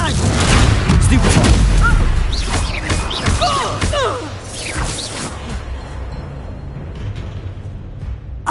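Confringo blasting spell explosions in Hogwarts Legacy, loud booming blasts and crashes packed into the first half, then fading into a quieter rumbling tail, with a voice heard over the action.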